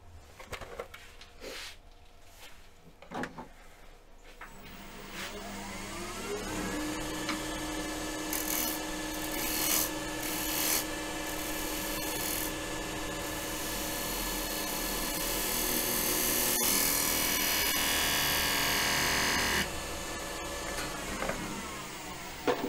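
A woodturning tool trims across the top edge of a tall, coloured, beaded wooden bowl spinning on a lathe, giving a steady rasping scrape over the lathe's hum that lasts most of the time after some quieter handling sounds at the start.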